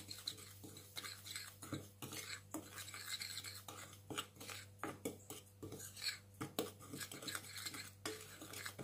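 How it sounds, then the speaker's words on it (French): Brown sugar, yeast and the other dry cake ingredients are whisked together in a bowl, a quick, rhythmic clatter and scrape of a metal whisk against the bowl, close and fairly soft, with no talking. "on mélange tous les éléments secs d'abord"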